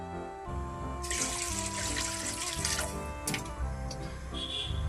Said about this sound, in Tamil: 1 கப்பு ரவைக்கு 3 கப்பு தண்ணி ஊத்திக்கலாம்